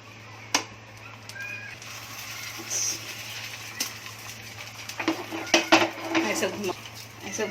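A frying pan is swirled over medium gas while Konkani pelve, a sweet, fry in it, giving irregular metallic clinks, scrapes and knocks against a low steady hum, loud and close.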